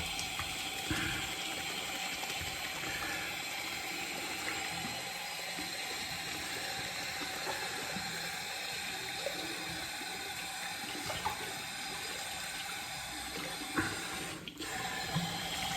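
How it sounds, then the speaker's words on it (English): A shaving brush is rinsed under a running tap, a continuous close rush of water splashing into a sink with slight changes as the brush moves through the stream, steady throughout and with no voices. "And then rinse out the brush."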